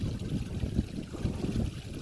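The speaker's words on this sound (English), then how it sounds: "A stream, a freshwater stream" A small freshwater stream spilling over a little waterfall in Newfoundland trickles and burbles in a continuous, close, uneven wash.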